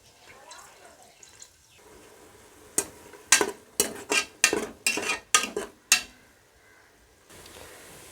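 Ginger-garlic paste frying in oil in a pan for a country chicken curry, with a quiet sizzle broken by a run of sharp scraping stirs against the pan.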